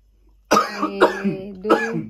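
Three loud, harsh coughs close up, spaced about half a second apart with rough, throaty tails and no talking.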